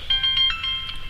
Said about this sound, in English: my phone would never stop ringing